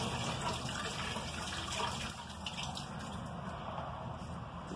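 Clean water runs into a container to make a neutralizing bath for hide tanning, a steady close rushing pour with a filling gurgle that softens slightly partway through.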